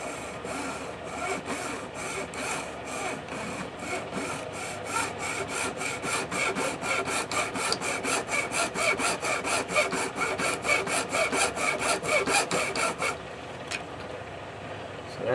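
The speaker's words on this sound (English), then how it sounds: "I'm going to take a hacksaw and I'm going to cut it right here." A hacksaw cuts through a gear caddy in quick, steady back-and-forth strokes, close and rhythmic for about thirteen seconds before stopping.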